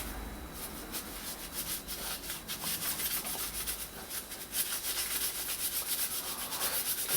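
A cloth rubs over the dash top vent cover of a Mk1 Audi TT to lift greasy, oily grime, producing a continuous close swishing scrub with quick back-and-forth strokes, steady and moderately loud, no voices.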